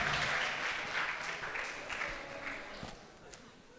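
An audience at a college tech conference applauds a speaker after his introduction, a steady wash of many hands that slowly thins and fades toward the end.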